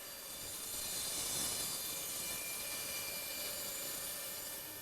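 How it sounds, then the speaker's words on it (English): A bandsaw roughs out a wooden roof truss for a pergola, giving a steady high-pitched whine and hiss of the running blade that swells slightly as it cuts, with no talk over it. "Now I'm going to rough it out on the bandsaw."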